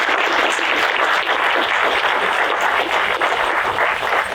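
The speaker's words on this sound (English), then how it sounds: "Let's give a round of applause." A room full of listeners at a pizza-and-talk session gives a dense, loud round of applause, continuous clapping that holds steady for several seconds with no speech over it.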